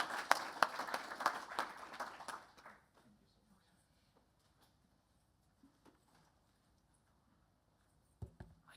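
Audience applause for the panelists at a security and privacy networking workshop, a dense burst of clapping lasting about three seconds before fading out, followed by near silence with a few faint thumps.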